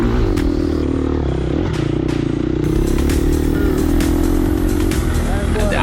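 A Gas Gas EX250F dirt bike engine runs steadily and loud through a harescramble race, a continuous droning roar with rattling clatter and scraping from the trail close by, no clear talk over it.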